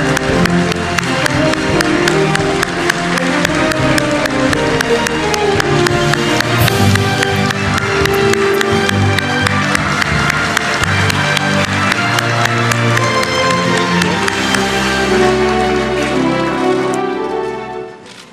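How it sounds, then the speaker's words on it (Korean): A large press-conference audience applauds steadily as the South Korean president enters for his 100-day press conference, a loud, dense wash of clapping that fades out near the end. "박수로 환영해 주시면 감사하겠습니다."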